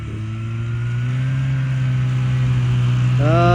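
Car traffic on a road in Kashmir, a steady close engine drone that swells slightly as a vehicle revs and accelerates near the end, loud and continuous with no talk.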